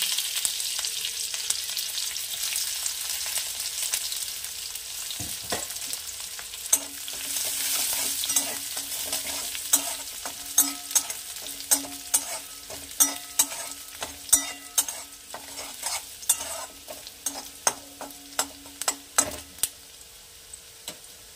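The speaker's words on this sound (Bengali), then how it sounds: "রসুনটা একটু ভাজা ভাজা হয়ে গেছে।" Chopped garlic frying over a low gas flame in a pan already tempered with nigella seeds, for a Bengali bethua greens dish. A steady soft sizzle runs under repeated sharp spatula scrapes and clicks that grow more frequent toward the end.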